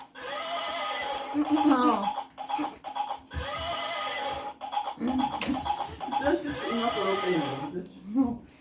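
A newly bought donkey brays in a high, whinnying, horse-like way, with several drawn-out harmonic calls repeating close by while people talk over them.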